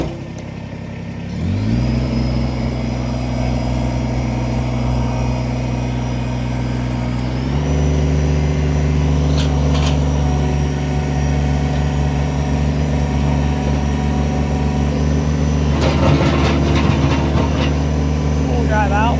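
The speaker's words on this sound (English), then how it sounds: "We're going to go ahead, fire this tractor up." A 2019 Kubota BX2380 compact tractor cranks and starts, then idles loudly and steadily nearby, its engine note stepping up partway through, with someone talking over it.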